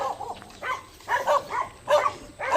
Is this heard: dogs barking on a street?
yes